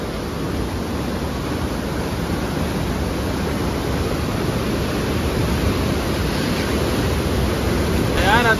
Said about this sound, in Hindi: पानी का स्पीड तो और बढ़ गया।